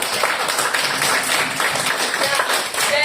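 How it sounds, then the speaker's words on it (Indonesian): Classroom applause from a group of students, a dense steady clapping that fills the room for a few seconds, moderately loud and close. "Beri tepuk tangan dong."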